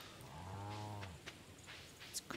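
A single low, drawn-out moo from a farm cow in Stardew Valley swells and fades over a second, then quiet game clicks and chimes follow, with no talking.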